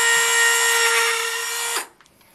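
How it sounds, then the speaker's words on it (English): Dremel rotary tool with a makeshift bit grinding into a ficus bonsai growing over rock, a high steady whine for under two seconds that winds down abruptly, no speech. "Was able to find a makeshift bit for my Dremel. Try and see if I can't get some of this out first."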